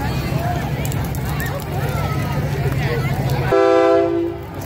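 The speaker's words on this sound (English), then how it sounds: "I couldn't get scared by any more freaking train horns" A train horn blasts loudly at a Labor Day parade and holds a sustained tone for about a second near the end. Before it, crowd noise and people talking fill the scene.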